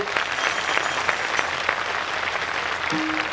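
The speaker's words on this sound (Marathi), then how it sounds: "तुम्हाला विनंती करतो का या कला मंचाकरता जोरदार टाळ्या एकदा होऊन जाऊ" An audience at a devotional kirtan performance claps vigorously, producing dense, sustained applause that fills the whole moment at close range and stays even in loudness.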